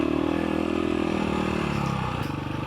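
KTM 525 EXC enduro motorcycle riding off-road, its engine a steady, loud, close drone throughout, dipping slightly near the end with some clatter.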